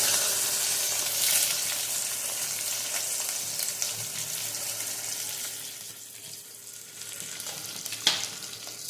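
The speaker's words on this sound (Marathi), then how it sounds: "कांदा चांगला हलवून घ्यायचा लाल होईपर्यंत" Sliced onion and bay leaf fry in oil while being stirred for spiced rice, a continuous close sizzle with scraping stirs and a sharper knock near the end, no voices.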